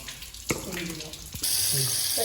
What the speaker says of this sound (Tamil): மீன் கழுவ ஆரம்பிச்சாச்சு இப்போ மீன் கழுவிட்டோம்